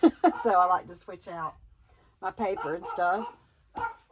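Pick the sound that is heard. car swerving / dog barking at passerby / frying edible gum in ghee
dog barking at passerby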